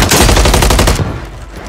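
A loud, close burst of rapid automatic gunfire in Call of Duty on Rebirth Island, about a second of fast repeated shots before cutting off into quieter game ambience.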